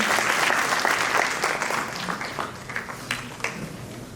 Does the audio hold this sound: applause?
yes